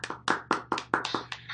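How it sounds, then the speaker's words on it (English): Small group-meeting audience applauding after a presentation, a short burst of about a dozen quick, fairly close handclaps in an uneven rhythm, with no talking over them. "let's applaud."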